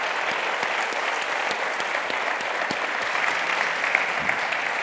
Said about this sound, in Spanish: también un aplauso para nuestros ponentes que han hecho una magnífica actuación